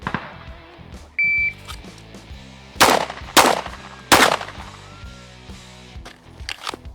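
Pistol shots fired at a target on a range ring out as sharp, loud cracks spaced at irregular intervals, preceded by a brief electronic timer beep.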